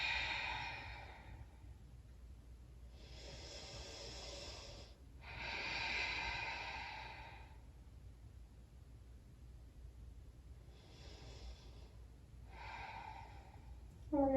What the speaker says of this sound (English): And remembering to breathe as always.